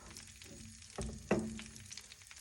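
Steady sizzling of perch frying in hot oil in a pan, with a couple of louder crackles and spits, close by and without talk.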